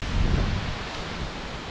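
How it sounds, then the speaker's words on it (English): Steady wind roaring and rushing through trees in Elk Island National Park, Alberta, a dense broadband whoosh slightly stronger at the start then holding even, with no voices. "Still windy, but we're in the trees."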